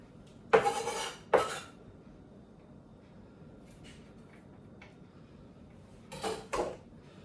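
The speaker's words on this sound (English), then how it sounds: "We're going to scrape that off into the next container" Chopped onion gets scraped off into a Pampered Chef prep container with two sharp scraping clatters close by, a quiet pause with small knocks, then two more quick scrapes of plastic and utensil.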